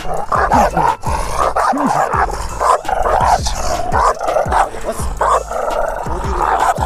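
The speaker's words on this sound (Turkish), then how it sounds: "Hemen Tyson hırlamaya başladı." Two dogs bark sharply and growl at each other in a tense face-off, loud and close, with repeated overlapping barks and continuous snarling throughout.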